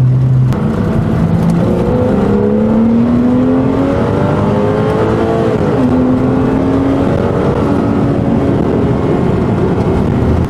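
A loud Porsche engine with an open exhaust revving, its pitch climbing and sliding up through several rising sweeps with a throaty, muffled exhaust roar.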